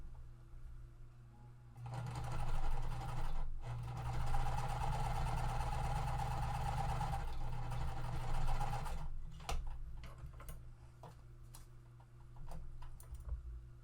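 Sewing machine stitching quilt triangles, running in a steady motorized whir for about seven seconds with a brief pause, then stopping; short clicks and handling noises follow.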